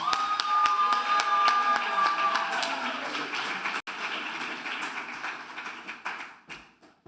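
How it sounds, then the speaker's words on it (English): Applause from a graduation audience for a speaker at an NYC graduation ceremony, dense clapping sustained for about three seconds and then thinning to scattered claps that fade out, with a sustained electronic tone audible early on. "let's give her a round of applause"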